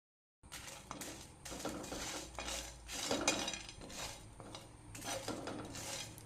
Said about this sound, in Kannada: ಇದಕ್ಕೆ ಫ್ರೈ ಮಾಡುವಾಗ ಎಣ್ಣೆ ಹಾಕಲಿಕ್ಕಿಲ್ಲ ಹೀಗೆ ಡ್ರೈ ಆಗಿ ಫ್ರೈ ಮಾಡಿದೆ